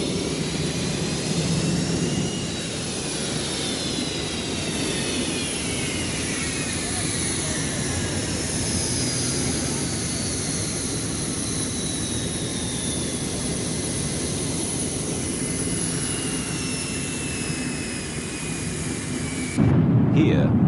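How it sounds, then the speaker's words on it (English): The twin Pratt & Whitney F-100 turbofan engines of a McDonnell F-15 Eagle prototype spool up toward takeoff thrust, a loud sustained roar with rising whine tones, heard alongside narration throughout. "the massive Pratt & Whitney F-100 turbofan engines, part of the secret of the Eagle's phenomenal performance, are brought up to takeoff thrust"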